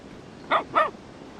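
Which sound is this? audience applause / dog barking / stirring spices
dog barking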